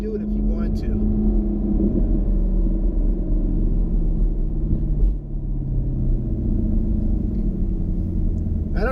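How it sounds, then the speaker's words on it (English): 2020 Chevrolet Camaro SS with a 6.2-liter V8 rumbling from inside the cabin with the windows up, a deep steady engine drone that is loud and continuous, with a slight dip around the middle. "but this car sounds like a true muscle car."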